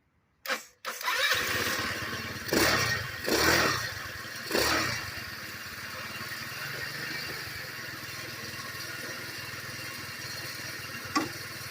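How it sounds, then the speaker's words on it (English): A 180cc GY6 scooter engine cranks in a few short bursts, then catches and settles into a steady, close, fairly loud idle with no talk. "I'm going to push the button and it's got 3 greens. That should be enough to crank this motor."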